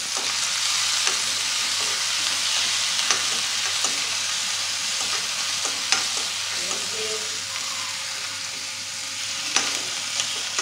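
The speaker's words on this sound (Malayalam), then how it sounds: "ആദ്യമായിട്ട് വെജിറ്റബിൾസ് ഇവിടെ എടുത്ത് വെച്ചിട്ടുണ്ട്, അതിനെയൊക്കെ ഒന്ന് വഴറ്റി കൊടുക്കുകയാണ്" Vegetables and a medium piece of ginger sauté in a pan with a continuous bright sizzle, punctuated by soft, irregular stirring clicks and scrapes close by, with no talking.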